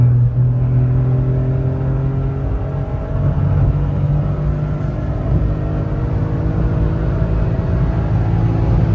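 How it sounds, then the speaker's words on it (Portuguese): A stage 3 tuned VW Up TSI accelerates hard with a loud, continuous engine drone and whirring. Its pitch holds and shifts slightly over nine seconds, with no talking. "Colocar para acelerar o upzinho DSI."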